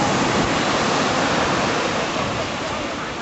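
Ocean waves break and surge at Sandy Beach on Hawaii's shoreline, a loud, steady roar of churning surf that fills the scene from start to finish, fading slightly toward the end.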